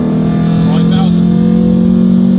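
A 200 hp Renault Clio 182 Trophy fitted with fast road cams runs its engine in a loud, steady, close drone, holding a fairly constant pitch throughout.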